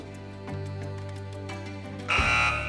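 A steady electronic tone hums, then a louder, harsher quiz show buzzer blares near the end, sharp and sustained.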